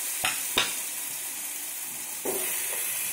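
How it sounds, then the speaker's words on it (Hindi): Chopped apple hitting a pan with fenugreek seeds on low flame, a steady sizzle and hiss with two sharp clatters early on and a louder burst of frying near the end, no voices. "अब हम इसमें डाल देंगे जो कटा हुआ एप्पल है हमारे पास।"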